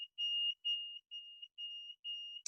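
A pump control panel alarm sounds in a series of steady high-pitched electronic beeps, five long tones with short gaps, fairly quiet and alone, ending in a brief click.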